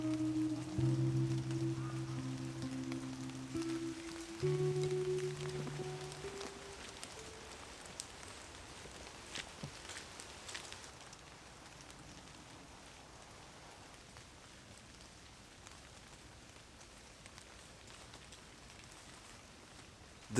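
Rain falls in a woodland with a soft, steady patter that continues throughout. A few electronic tones sound in the first several seconds, then only the even wash of rain remains.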